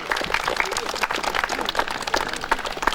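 A crowd applauds a performance at a ceremony marking Physical Culture and Sports Day, giving a fairly quiet, continuous patter of many hands clapping, heard from some distance.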